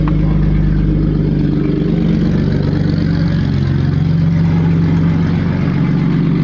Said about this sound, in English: I can hear that transmission sound again.